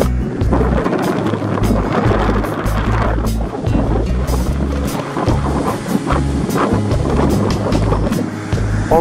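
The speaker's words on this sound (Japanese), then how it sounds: "この風が嫌ですね。" A strong onshore wind batters a partly covered microphone at a surf beach, a constant loud rumbling roar with surf breaking underneath, and no voices.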